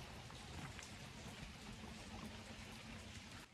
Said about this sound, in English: you're hearing the mists rain down from the trees